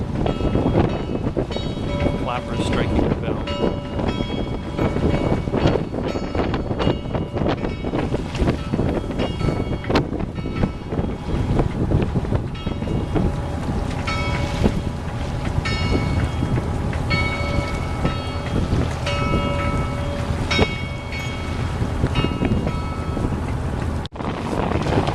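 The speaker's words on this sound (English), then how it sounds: "you can hear the gong going. Clappers striking the bell." A bell buoy gong at Ohio Ledge near a lighthouse, its clappers striking the bell irregularly with rings that hang on, heard on the water under steady wind noise and a broadband rumble.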